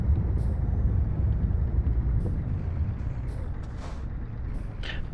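Truck braking in Euro Truck Simulator 2 on UK roads, a loud steady low engine rumble with air-brake hisses and brief sharp bursts on top, close throughout and no voice heard.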